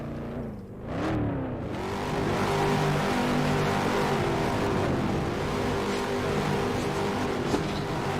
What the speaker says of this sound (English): Let's hear 'em rev.